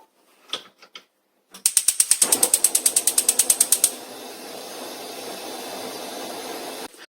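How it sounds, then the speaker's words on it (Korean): A gas stove igniter clicks rapidly in a loud, even series of about fifteen ticks, then the burner catches with a steady whooshing roar of flame under a pot of water for ramen. No one speaks. "그리고 바로 불을 붙일 거예요."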